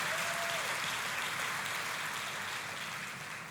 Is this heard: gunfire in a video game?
no